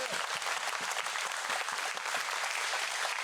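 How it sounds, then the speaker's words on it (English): Attendees at a Brazilian jiu-jitsu seminar at 10th Planet Jacksonville give a round of applause, an even, continuous patter of many hands clapping in a gym, moderately distant and without talk. "huge round of applause to all you guys"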